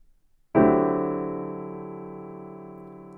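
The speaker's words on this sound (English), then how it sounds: "these are harmonies that result when two chords from different harmonic areas are played together or sounded together" A single sustained chord made of two different triads stacked together, struck once and left to ring, slowly decaying with no voices present.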